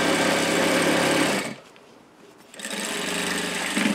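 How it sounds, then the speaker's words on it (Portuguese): Macnunes Z5 sewing machine stitching around the edge of a mask holder pouch, a loud steady whirring run that cuts out for about a second, then resumes at full speed to the end. "E vamos costurar a volta toda."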